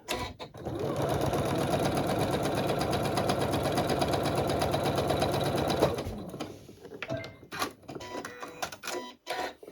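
Sewing machine with a quarter-inch presser foot piecing a poinsettia table runner, a steady close rattling run of stitches for several seconds before stopping, followed by light handling clicks and rustles.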